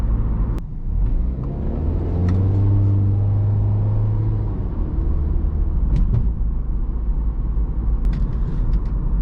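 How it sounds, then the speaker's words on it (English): Steady low road rumble inside a 2015 MINI Cooper Countryman S ALL4 at about 40 mph, tire noise a little above wind noise, with a brief engine drone in the middle and a few faint clicks. "There's a little bit more tire noise though than there is wind noise."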